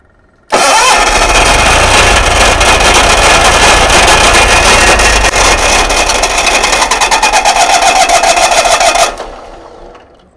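A GMC motorhome generator engine cranks and catches, then runs loud and steady for about eight seconds before shutting off abruptly.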